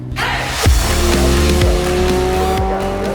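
A race car on a Las Vegas track accelerates hard under full power. The loud, close engine note climbs steadily, drops in pitch at an upshift, then keeps rising with some tire noise.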